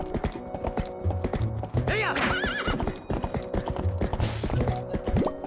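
A horse gallops and neighs in Twilight Princess, with hoof clip-clops in quick rhythmic runs broken by two loud whinnies, all over game music.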